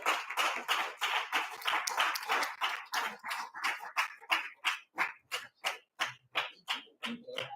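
Audience clapping at a school ceremony, starting as dense overlapping applause and thinning to a few slower, distinct claps that fade toward the end.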